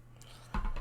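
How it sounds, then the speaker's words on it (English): Close, noisy slurping of tea through a straw begins abruptly after a brief quiet moment, a few rough gurgling pulses in quick succession. "That sound is me drinking my tea through a straw"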